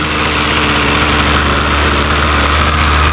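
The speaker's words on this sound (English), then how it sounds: "And that is how you fix a Ryobi 2-stroke weed whacker. She idles and everything." Ryobi two-stroke weed eater engine idling with a new carburetor fitted, a steady, loud buzzing drone that stays even throughout with no talk.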